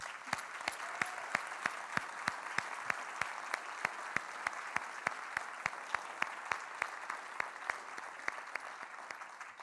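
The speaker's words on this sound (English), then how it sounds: "let's give all the nominees a big round of applause." Applause from a civic gathering for award nominees, quiet and fairly distant, with one set of sharp, evenly spaced claps standing out in a steady rhythm over softer crowd clapping.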